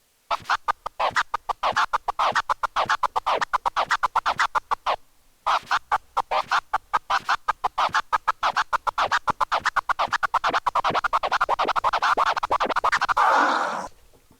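Phased flurp turntable scratches on vinyl, each flurp starting from a reversed position, fire in a long, fast, steady run of short bursts with one brief pause early on, loud and close with no talking.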